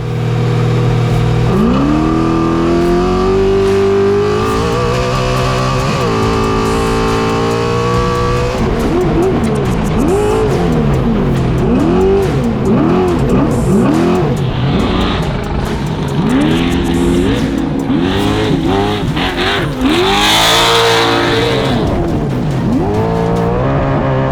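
A race car screams through a wide-open qualifying lap, its loud, close engine rising and falling through repeated gear changes, with brief tire squeal near the end.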